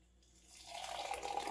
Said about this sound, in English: Dripping everywhere.